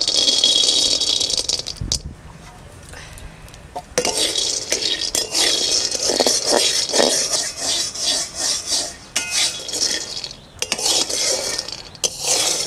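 Whole dried chillies, cumin, coriander seeds and peanuts are dry-roasted and stirred in a pan for a village-style mango chop, giving a loud, continuous rattling scrape with a brief quieter lull early on and no talking.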